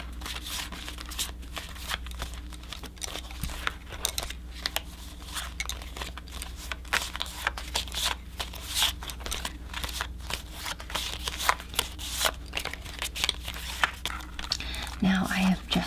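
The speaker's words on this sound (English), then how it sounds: "Now, we do need to get these shuffled." Tarot cards are shuffled softly and continuously, with dense papery riffles and light crinkles running close to the microphone and no voice over them.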